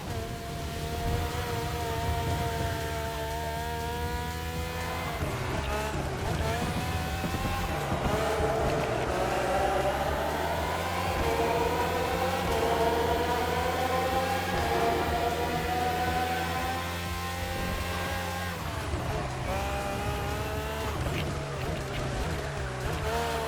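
Red Bull Formula 1 race cars with Renault and Honda engines scream past in The Crew Motorfest racing game, high-pitched engines revving up and down through gear shifts, loud and continuous, with several cars overlapping and brief tire noise.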